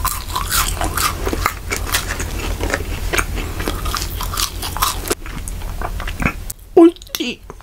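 McDonald's french fries are bitten and chewed close up, with dense crunchy bites and steady mastication giving way to a few softer chews near the end.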